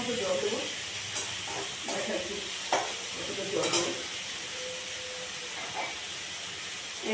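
Potatoes and taro are stir-fried with turmeric in a pan for an ilish fish-head ghonto, with a low, steady sizzle and occasional scraping stirs, close and fairly quiet.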